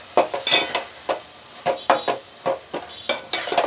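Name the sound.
mixing chilli-tamarind paste in a pot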